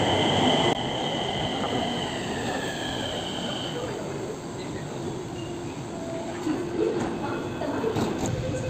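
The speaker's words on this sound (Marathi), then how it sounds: "आपली मेट्रो आली" A Nagpur Metro train pulls into an elevated station with a steady rolling rumble and a few high whining tones gliding downward as it slows, fairly distant and continuous.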